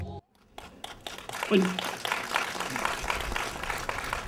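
Audience at a town partnership anniversary event applauding a speech, moderate clapping that swells after a brief pause and continues steadily, with faint voices and rustling underneath.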